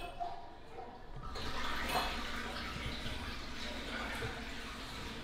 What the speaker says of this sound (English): Flush the toilet, man.